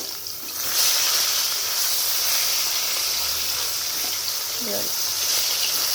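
Fish pieces frying in hot oil in a kadai as they are turned: a continuous close sizzle that jumps louder early on, then crackles on steadily.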